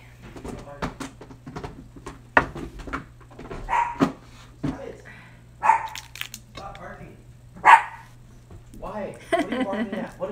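A dog barks several times in short separate bursts, close by and moderately loud, over a low steady hum, with a person speaking between and around the barks.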